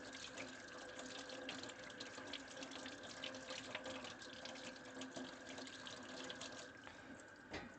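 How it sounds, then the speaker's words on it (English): Vegetables being rinsed under a running kitchen tap, a steady continuous stream of splashing water, close and even, with no talking. "Make sure you're washing your veggies."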